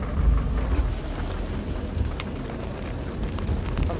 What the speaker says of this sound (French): J'ai quand même envie d'écouter les éclairs.